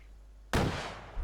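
A single heavy gunshot in a military video game, a sudden loud blast after near-quiet with a long rumbling decay.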